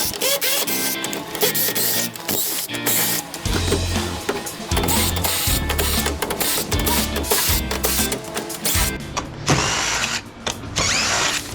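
A power tool unscrews screws from electrical gear during a teardown, its motor whirring in repeated close, loud bursts with ratcheting mechanical clatter between them.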